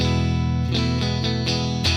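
Electric guitar with a completely clean tone through a Dream '65 Reverb amp-sim pedal, several sustained chords struck in turn, each ringing out with a smooth reverb tail, no talking.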